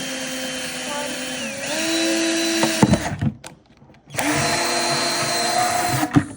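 A power drill whirs steadily at close range drilling holes in a plastic bucket, pitch shifting as it bites, then cuts out for about a second before running again.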